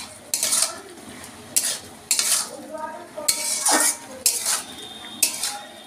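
A metal utensil clinks and scrapes against a pot in repeated stirring strokes as turmeric and sugar go into spinach curry with fish head, with a faint sizzle underneath.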